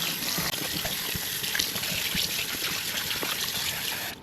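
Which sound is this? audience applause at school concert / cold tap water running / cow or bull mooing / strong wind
cold tap water running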